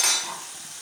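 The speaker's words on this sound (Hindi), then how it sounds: "अब 1 से 2 मिनट के लिए हम दही की भुनाई करेंगे" Yogurt roasting in a pan for restaurant-style chicken changezi, giving a short, soft sizzle with a faint stir right at the start.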